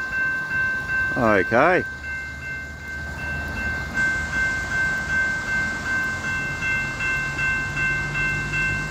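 Doodlebug passenger railcar heard approaching in Australian summer rain, a brief rising horn blast near the start, then a steady low rumble from about a kilometre away, with a short spoken word over it.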